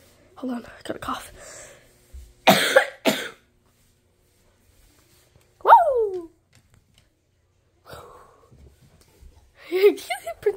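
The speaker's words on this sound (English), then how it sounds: "Prince, hold on, I gotta cough." Indoors, a person lets out a pair of harsh, close coughs, separated by quiet gaps. Soft whispered speech comes before them, and a brief high yelp from a dog follows.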